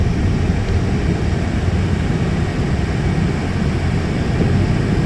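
A low, steady roar of an airplane passing overhead outdoors, a broad constant rumble that holds the same loudness throughout, with no talk.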